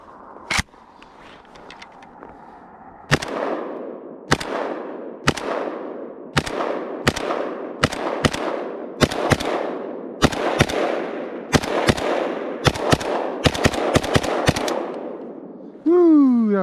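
A Norinco MAK90 rifle fires 7.62x39 Russian ammunition outdoors, one opening shot, then a long series of loud sharp reports with ringing decays, spaced unevenly and occasionally doubled, ending with a brief whistling sound.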